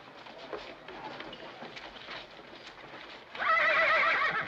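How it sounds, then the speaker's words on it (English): A horse gives a loud, close whinny near the end, after a stretch of hooves clip-clopping and faint background activity in an old Western film scene. "You scare my horse."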